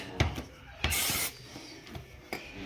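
A short burst of hissing cleaner spray onto a Nissan 1400 brake disc sounds once, between a few faint clicks and scrapes in a quiet space.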